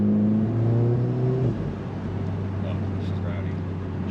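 Mk7 Volkswagen GTI engine on a cold start heard from inside the cabin, a loud droning rev that climbs and then settles into a steady rumbling idle, with people talking over it.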